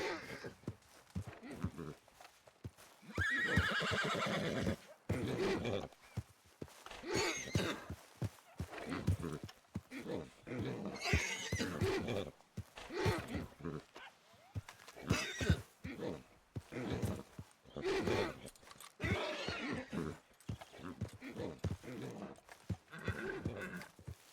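Horses in a video game whinny and neigh repeatedly, spooked by a snake, with clip-clop hoofbeats in between, while voices talk over them throughout.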